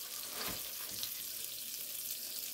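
Onions sauté in butter on a hot surface, giving a soft, steady sizzle that stays faint and even the whole time.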